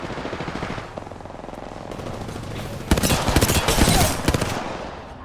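Rapid automatic gunfire in the video game Apex Legends, steady bursts of shots throughout that grow louder and denser in the second half, with no talking.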